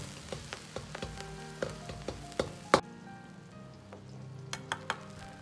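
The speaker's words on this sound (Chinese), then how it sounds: "把锅烧干后放入少许的葱油，油热后下入葱姜蒜" Scallion, ginger and garlic go into hot scallion oil in a wok that was first heated dry. They fry with a soft steady sizzle, broken by sharp clicks and scrapes of the spatula stirring close by.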